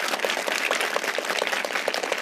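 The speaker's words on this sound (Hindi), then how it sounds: "चलिए एक बार जोर से अपने लिए ताली बजा लीजिए।" Children in a junior high school classroom in Dehradun clap their hands together in applause, a dense, steady patter of many small hands lasting throughout without talk.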